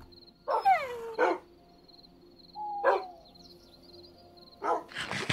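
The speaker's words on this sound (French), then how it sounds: "Alors, où est passé ce petit chien?" A dog in the video game TFC barks about five times in separate bursts with pauses between them, over a faint, steady high tone.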